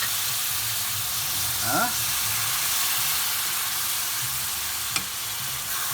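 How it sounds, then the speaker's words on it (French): Crushed tomatoes sizzle and hiss in a pan with shrimp, a steady frying crackle with a brief stir, and a voice speaks briefly. "je vais ajouter les tomates concassées"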